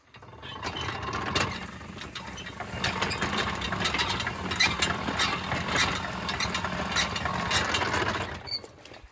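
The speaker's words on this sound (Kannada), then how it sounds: "ಶೇಪ್ ಕೊಡುವ ಮಿಷಿನ್. ಈಗ ನಾವು ರಬ್ಬರ್ ಶೀಟ್ನ ಶೇಪ್ ಕೊಡಬೇಕು." A rubber sheet shaping machine running steadily, a loud continuous mechanical clatter of rollers and gears with dense rapid rattling throughout, close by and without talk.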